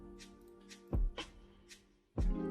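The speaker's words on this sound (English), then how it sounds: "Imported another lo-fi key sample, and it sounds like this" A lo-fi keys sample plays soft, muffled keyboard notes in a slow, mellow pattern, with a few low thumps underneath, quiet and warm.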